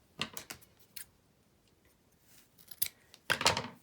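Scissors cut lengths of sari silk thread for tassels, a few sharp, crisp snips spaced apart and then a quick cluster of cuts, close and quiet with nothing else around.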